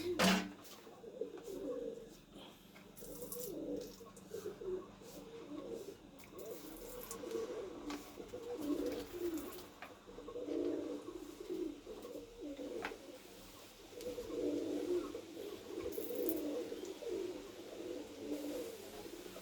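Pigeons in a loft give repeated low, throaty coos that roll on in overlapping phrases through the whole stretch, fairly close and steady over a quiet background.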